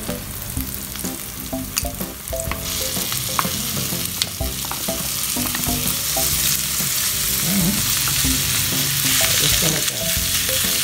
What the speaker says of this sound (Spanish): ahora vamos a agregar la carne.